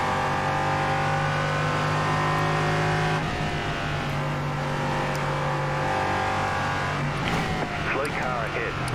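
An LMP3 race car engine in iRacing at Oulton Park revs high and steady, then drops and climbs again through gear shifts, loud and close, with a voice briefly speaking over it.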